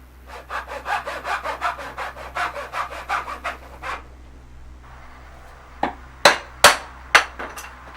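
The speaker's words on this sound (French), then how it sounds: "On coupe avec la scie" A hand saw cuts through reclaimed wood in steady back-and-forth strokes for about four seconds, then stops, followed by a few sharp knocks near the end.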